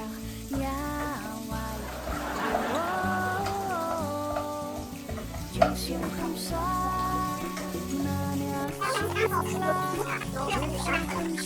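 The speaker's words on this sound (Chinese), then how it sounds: "我们现在洋葱先下哦" Onions frying in a home kitchen pan for chicken curry give a steady soft sizzle and crackle throughout, running under voices talking and a tonal hum, with one sharp clatter midway.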